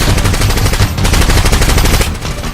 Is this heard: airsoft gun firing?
yes